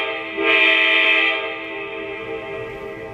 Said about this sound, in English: the typical horn sound sounds like this